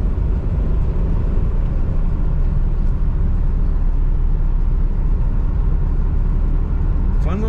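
Loud, steady road rumble and engine drone from inside a moving 1985 Toyota Celica GT-S Convertible, continuous without change, with a brief faint voice near the end.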